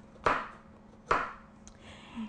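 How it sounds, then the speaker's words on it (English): A knife slicing carrots thin for carrot soup makes two distinct chops on a board about a second apart, close and crisp, followed by a softer clatter. "you slice the carrots kind of thin"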